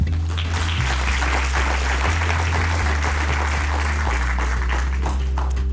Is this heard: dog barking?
no